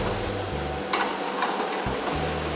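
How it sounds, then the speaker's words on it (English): A fish curry mixture of curry powder and oil cooks on a slow fire in a Maldivian home kitchen, giving a steady soft sizzle with light stirring, close over a low background hum. "we need to let this mixture cook for another 5 minutes on a slow fire"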